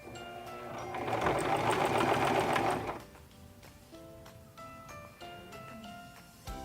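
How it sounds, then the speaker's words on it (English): A Singer 1512 Promise II sewing machine stitches a buttonhole bar tack, running loudly in a steady whirring burst for about two seconds, then dropping to quieter clicks and mechanical ticks. "we just want to sew 6 to 8 stitches, whatever you feel comfortable, that creates the bottom bar tack of your buttonhole"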